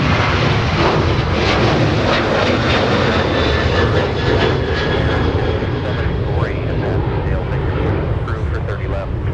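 American Airlines jet in bare metal retro livery at Minneapolis–St. Paul airport, a loud sustained roar of jet engines close by, with voices talking over it.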